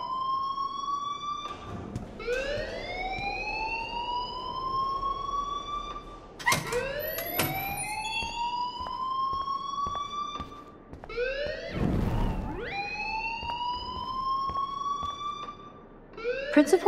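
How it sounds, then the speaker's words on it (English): A school fire alarm in Life Is Strange wails in repeated rising sweeps, loud and continuous, with brief thuds and other noises breaking in between cycles. "please turn off that alarm since that's your job"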